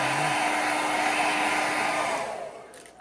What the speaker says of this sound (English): If you've got a hot gun, you can dry it with a hot